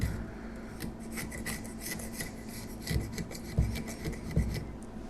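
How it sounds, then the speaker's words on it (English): A steel chisel scrapes hardened super glue off the sides of a metal plate, a gritty rasping that repeats in uneven strokes with a few sharper scraping pushes, close and alone without talk. "We also can take a chisel and remove the super glue from the sides of the plate."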